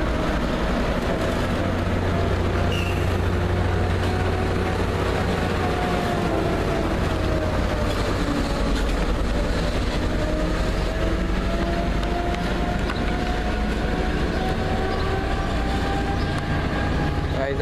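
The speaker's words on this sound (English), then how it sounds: "there goes the northbound tri-rail EOT passing off at 9:40, heading off towards Boca Raton" A northbound Tri-Rail three-car commuter train with two locomotives rolls past steadily at close range, its low engine rumble and wheel noise on the rails holding loud and continuous throughout.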